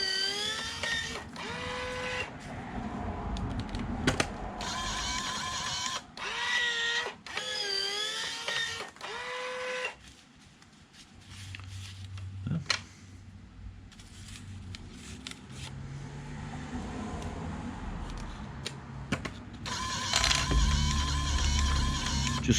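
A homemade cigarette rolling machine runs at close range, with whirring motor passes, clicks and mechanical clatter in repeated cycles, then a quieter stretch of low rumbling handling noise.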